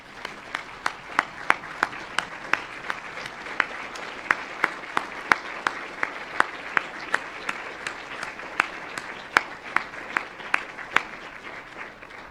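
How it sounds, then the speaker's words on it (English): A ceremony audience of medical students stands and applauds their families, with steady dense clapping from a large crowd filling the hall and sharp individual claps standing out, continuous for the whole stretch without speech. "Would you guys all stand up and applaud for your families?"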